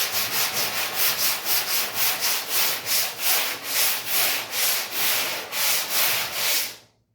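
Sanding board rubbing over body filler on the hood of a 1951 Chevy, a steady rhythm of rapid back-and-forth scraping strokes, close and even, stopping abruptly at the end.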